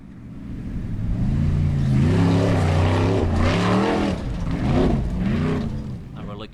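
A Formula Offroad car at the Egilsstadir round in Iceland, its engine droning and rising in pitch as it drives the course, loud and close, with a rough revving surge toward the end.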